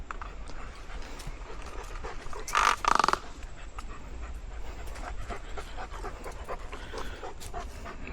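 A German Shepherd dog that is fearful and reactive pants steadily and rhythmically nearby, with a brief burst of louder, rougher breaths partway through.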